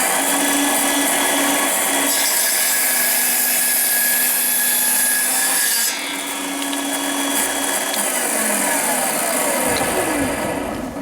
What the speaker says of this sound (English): now we'll start with pine